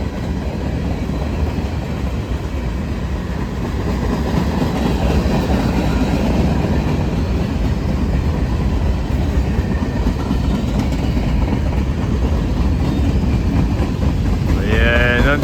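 A Norfolk Southern freight train rolls past with a distributed power locomotive mid-train, a loud, steady rumble of railcars with rhythmic clickety-clack wheel noise lasting throughout, and a brief high wheel squeal near the end.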